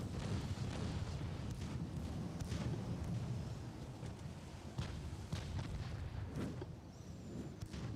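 Battleship gunfire and shell explosions from a naval battle in Ultimate Admiral: Dreadnoughts, Royal Navy campaign: a steady deep rumble with repeated booms, moderately loud and continuous throughout.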